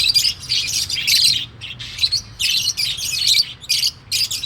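Several small pet birds chirp and twitter in rapid bursts close by, with brief pauses between the busy flurries of calls.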